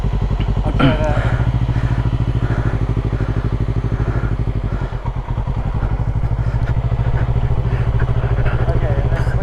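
A motorcycle engine runs steadily as a learner rider sets off and clicks into second gear, its rumble loud and close throughout, with a brief voice heard over it.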